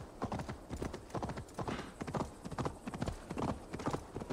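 A horse's hooves clip-clop steadily at a trot in Assassin's Creed Valhalla, in a close, continuous, even rhythm.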